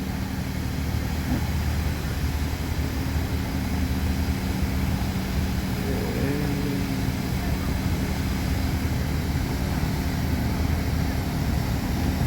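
Engine of a 185-foot ship running at full speed in reverse gear as it is launched from a dock into a river, a loud steady drone with a constant low hum and broad rushing noise throughout.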